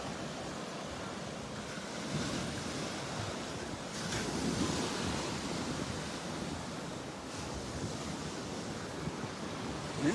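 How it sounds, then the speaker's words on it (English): Ocean surf rolling and breaking on the beach beside Naples Pier, a steady broadband wash with swells building around the middle, mixed with some wind noise and no talk. "Looks like the water's a little churned up because of the wave action."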